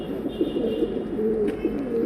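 Pigeons on a rooftop at night giving low, continuous throaty coos, several birds overlapping close by, with no voices.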